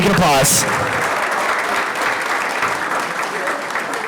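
An audience at an NCAA volleyball championship banquet breaks into applause, a dense, steady clapping crowd that follows a brief spoken phrase and carries on evenly for several seconds.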